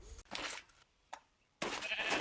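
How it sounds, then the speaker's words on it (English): Sheep bleating in the Minecraft video game, a few short nasal game bleats separated by brief gaps, with bursts of louder noise around them. "Oh, there's sheep!"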